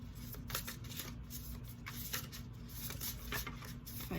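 A deck of tarot cards is shuffled in quick repeated riffles, soft crisp flutters close to the microphone, steady throughout with no talking.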